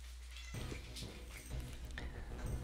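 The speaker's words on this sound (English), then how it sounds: "Where you at, kitty?" Several cat meows sound in a row in the middle distance, one after another, over steady background noise during an Old School RuneScape Wintertodt session.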